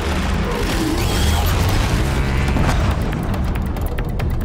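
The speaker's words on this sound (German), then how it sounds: "Ich wollte den Lohe-Behälter explodieren lassen." A Blaze canister bursts in Horizon Zero Dawn, a loud, sustained booming roar with crackling debris that fills the whole span, with no pause or letup.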